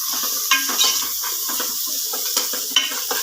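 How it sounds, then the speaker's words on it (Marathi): A spoon scraping and stirring potatoes and peanuts through mixed dal khichdi in a pot, with soft sizzling beneath and a few sharp metal clinks against the pan, close and distinct with no talk. "आता आपल्याला बटाटा टाकायचं आहे याच्यामध्ये आणि शेंगदाणे मिक्स करायचं छान"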